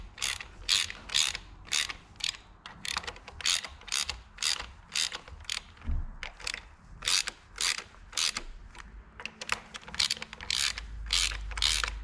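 Wrench bolts being snugged down on a Minneapolis Moline A4T 1600 tractor flywheel during clutch and pressure plate installation: a fast, steady run of close ratcheting clicks lasting throughout, with no talk.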